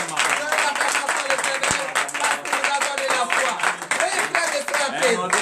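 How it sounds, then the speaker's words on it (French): A congregation at a morning prayer service claps together in acclamation, with steady, dense handclaps mixed with voices and some tonal sound in the background. "donnez l'acclamation à l'Éternel"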